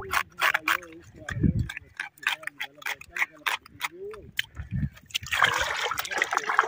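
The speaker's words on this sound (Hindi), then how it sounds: "और इसी पानी में बैठ के सफाई कर रहा हूँ भाई।" Water splashes and trickles as a rohu fish from a dam is cleaned while sitting in the water, with irregular close splashes and a steady dribble, and someone talking over them.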